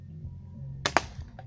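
Two sharp, close gunshots crack in quick succession at targets during speed shooting, with a quiet low background before and after.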